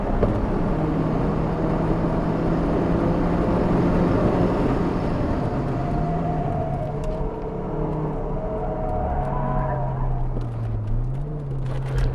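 A Stage 3 tuned Seat Leon FR with a hybrid turbo and 220 hp drones continuously from inside the moving car, its pitch rising and dipping slightly, with steady road and wind rumble throughout.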